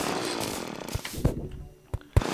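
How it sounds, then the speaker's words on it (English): A harsh power-tool whine grinds loudly, then cuts off into short bursts and thumps near the end, from drilling holes in a ceiling in the video game Terraria. "Having to drill holes in my own ceiling"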